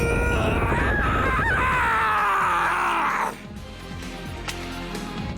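A character screams in the video game My Hero One's Justice 2, a loud, strained, sustained cry that slides downward in pitch for about three seconds, then breaks off into rumbling game noise and effects.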